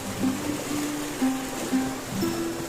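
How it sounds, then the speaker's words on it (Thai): Floodwater streams steadily past in a flooded village area, a continuous rushing wash with no talking and a few faint tonal sounds above it. "น้ำไหล"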